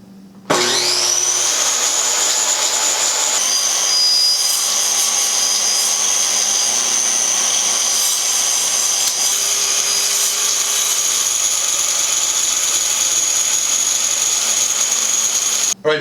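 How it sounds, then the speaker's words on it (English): A power saw cuts steadily through a backdrop board resting on plastic sawhorses, a loud continuous high whine running about fifteen seconds after a sharp start-up, with the motor pitch shifting slightly as the blade moves through. "I should be able to cut right through there without cutting through my sawhorses"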